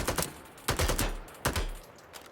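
Rapid automatic gunfire from a weapon in the battle royale shooter Super People, heard as three quick rattling bursts close up, with no talking.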